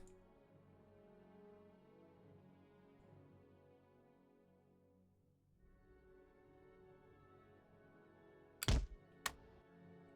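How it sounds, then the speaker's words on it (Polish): Cannons fire in the video game Napoleon: Total War, two sharp distant booms near the end after a long stretch of low humming game ambience. "Widzisz, te armaty jak już zaczęły grzmocić,"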